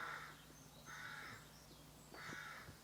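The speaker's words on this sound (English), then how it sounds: "Oh, crows are off." Crows caw in three separate bursts, each a harsh, repeated call lasting about half a second, spaced roughly a second apart and heard from a moderate distance over a steady low hum, outdoors near the Dorset coast.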